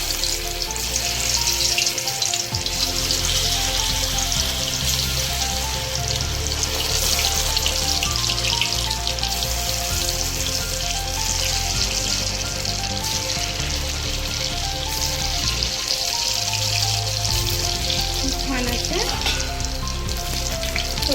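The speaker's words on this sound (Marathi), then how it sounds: "तेल चांगलं गरम आहे याच्यामध्ये आपण आळूची वडी ठेवूया" Pieces of taro leaf vadi (alu vadi) fry in hot oil in a pan, giving a loud, steady, dense sizzle that continues unbroken throughout, with no talking.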